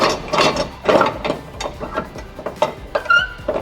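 A ratchet tightens a winch strap securing sheet steel on a flatbed trailer, giving a close series of sharp clicking pulls in irregular bursts with a brief metallic squeak near the end.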